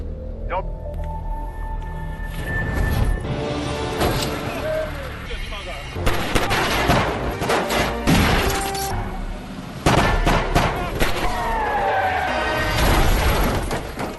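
Gunfire from hijackers in the 2012 film Cold War: loud bursts, crashes and thuds layered with dramatic music and effects, continuous and dense throughout, with movie dialogue and commentary mixed in.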